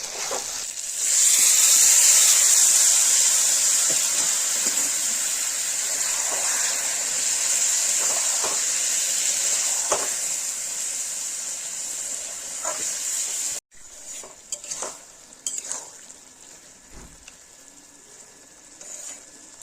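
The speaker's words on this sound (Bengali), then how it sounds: "এবার আমি সবজিটা দিয়ে নাড়াচাড়া করে দেবো" Chopped bottle gourd goes into chicken cooking in a pan, raising a loud steady sizzle and hiss with soft stirring clicks, then dropping to quieter scattered scrapes and taps.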